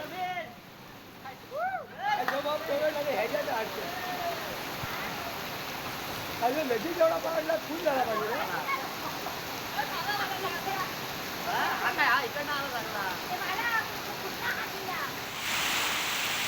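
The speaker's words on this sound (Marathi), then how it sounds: "रायगडमध्ये सुद्धा कालपासून जोरदार पाऊस सुरू आहे" Steady rain hiss falling on surfaces and flooded roads in Mangaon, Raigad, with people talking over it throughout and a brief burst of louder noise near the end.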